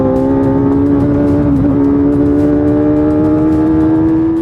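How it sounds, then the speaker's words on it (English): A race car holds a loud, steady engine note on track, its pitch rising gradually as it accelerates, close and continuous without pause. "I just wanted to go and drive my race car"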